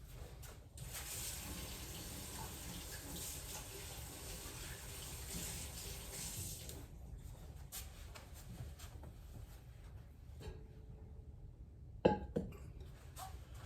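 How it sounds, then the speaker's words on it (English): Running tap water pours steadily into a sink while hands are washed, just after handling hatch chiles, with broadband flow throughout and a brief clink near the end as the water eases off. "I better wash my hands"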